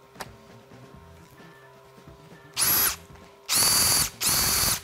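A Bosch GSR 18V cordless drill driver whirs in three short bursts, high-pitched and close, after a quiet stretch of faint background hum.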